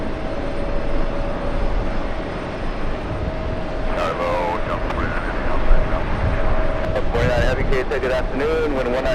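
A heavy Boeing 747 arriving to land at JFK airport makes a loud, steady jet roar throughout, with a radio-like voice talking over it for much of the time.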